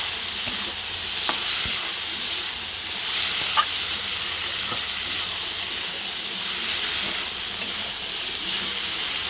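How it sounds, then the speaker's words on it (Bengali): Kochur loti with prawns fries in a pan and is stirred with a little water added, giving a steady close sizzle and hiss broken by occasional soft scrapes and clinks of the spoon. "আরও একবার ভালো করে নাড়ানাড়ি করে নেবো লতিটার সাথে চিংড়ি মাছটাকে।"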